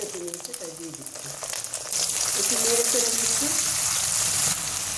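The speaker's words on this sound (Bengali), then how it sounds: "এইভাবে কষিয়ে নিতে হবে আদা রসুন আর এই যে সরিষাটা" Ginger, garlic and mustard paste soaked with a little vinegar sizzle in a pan over low heat, the frying growing louder partway through while someone talks over it.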